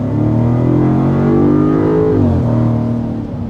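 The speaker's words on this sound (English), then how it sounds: "I love the sound of the engine on this Land Rover Defender." A 2024 Land Rover Defender V8 engine revs hard under acceleration, a loud, steady, close-up growl that climbs in pitch, dips briefly as the gear changes, then keeps pulling.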